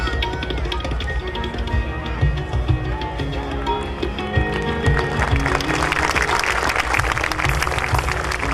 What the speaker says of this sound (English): A big applause for Harshit and his parents